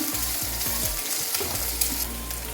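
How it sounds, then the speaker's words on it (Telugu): Home-grown eggplants frying gently in a pan over a low flame, a steady close sizzle with soft stirring scrapes and a low hum throughout. "ఇవి సిమ్లో పెట్టుకొని చిన్నగా వేయించుకోవాలండి"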